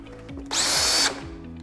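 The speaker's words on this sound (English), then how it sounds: "So let's get this screwed together." A power drill drives a screw into a bottom rail in one loud, close burst of about half a second, with quiet room sound before and after.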